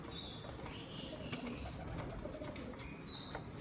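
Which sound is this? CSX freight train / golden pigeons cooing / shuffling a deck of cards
golden pigeons cooing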